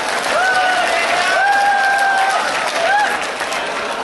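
An audience at the Lal Qila mushaira gives a poet a warm round of applause, a full, continuous roar of clapping with a few whistles cutting through.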